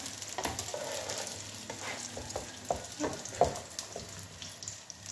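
Brick pastry filled with kefta and potato frying in a pan, a continuous bubbling sizzle with small crackles and pops scattered through, close and moderately quiet.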